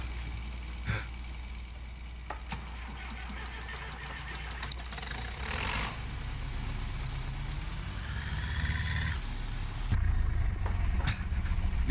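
A tractor engine running close by, a steady mid-pitched rumble that revs and strains under load, with hissing bursts and clanks along the way and no talk.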